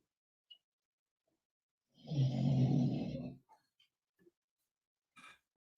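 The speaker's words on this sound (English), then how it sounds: "my dogs are snoring." Dogs snoring, one long rough nasal snore lasting about a second and a half, with a few faint snuffles and small breaths around it in an otherwise quiet room.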